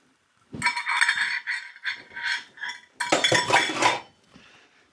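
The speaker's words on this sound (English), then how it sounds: "Give that a bit of a stir." Metal utensil scraping and clinking against a pan while double cream is stirred in with pork chop juices, a run of close, fairly loud scrapes with short pauses, then a denser burst of clatter before it fades.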